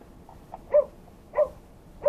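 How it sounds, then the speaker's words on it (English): Puppies barking in three short, evenly spaced yaps about two-thirds of a second apart, fairly close and clear over a quiet background. "These puppy dogs."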